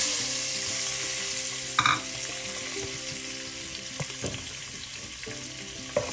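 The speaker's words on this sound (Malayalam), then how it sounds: "ചെറുതായെല്ലാം ഒന്ന് റോസ്റ്റ് ചെയ്യാം" Quail eggs roast in a masala in a pan, giving a loud, continuous close sizzle with occasional stirring clinks and scrapes, and no voices.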